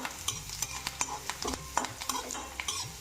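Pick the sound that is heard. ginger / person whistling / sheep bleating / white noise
ginger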